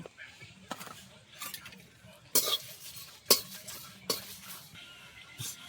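Fennel seeds and dried red chilies frying in a pan over a village cooking fire, with a soft continuous sizzle broken by several sharp spoon scrapes and clinks against the pan, close and moderately loud.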